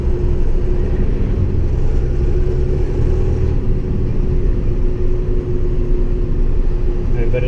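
An International Durastar truck with a Cummins engine is heard from inside the cab while driving, with a steady low drivetrain rumble and faint tire and transmission whine running continuously close by.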